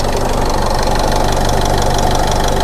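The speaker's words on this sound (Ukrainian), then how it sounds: "Він просто муркотить, мурличить" An Opel Vivaro van's 2.0 diesel engine idles loud and close with a steady low rumble and slight diesel clatter, no voices, constant throughout.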